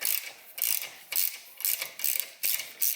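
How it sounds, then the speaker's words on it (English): A wrench ratchet cranks in short bursts of rapid metallic clicking, about seven close, crisp strokes with brief pauses between them, during engine and clutch pedal work on a Vortec 4200 swap, with no talking. "And I've been doing like 5 cranks and then going back."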